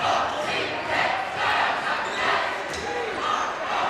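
Student crowd at a high school boys basketball game in Salem roars and cheers in steady swelling waves, a loud, dense gym din with commentators talking over it.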